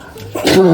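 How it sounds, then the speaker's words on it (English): A single short, sharp snort-like sneeze from a dog, nearby and fairly loud, lasting under a second. "Bless you, Ben."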